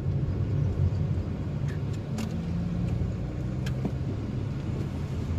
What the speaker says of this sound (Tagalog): medyo marami na rin sasakyan na bumabiyahe ngayon dito mga tol.